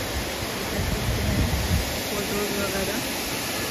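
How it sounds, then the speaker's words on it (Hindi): A waterfall in Jim Corbett Park near Ramnagar pours with a loud, steady, broadband roar that fills the whole scene, while a person speaks briefly over it. "तो ये बस झरना है"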